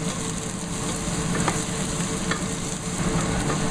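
Onions, celery and carrots sauté in a pan with a steady, loud sizzle, stirred throughout with soft scraping scuffs; no voices.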